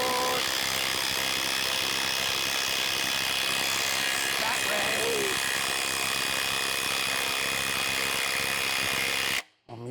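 A RIDGID cordless impact wrench runs in a steady, loud whir for nearly ten seconds, with a voice speaking faintly over it, before cutting off abruptly at the end.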